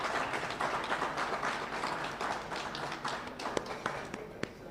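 An audience claps to welcome a poet from Khyber Pakhtunkhwa onstage at a mother-languages literature festival. The applause is a fairly faint, steady patter of many hands with a few sharper claps near the end.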